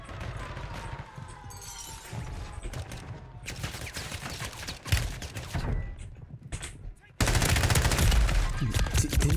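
Rapid enemy gunfire in a Warzone Rebirth Island ranked match, bursts of automatic fire and sharp shots crackling close and loud in repeated volleys, with a brief lull before a heavy sustained barrage at the end.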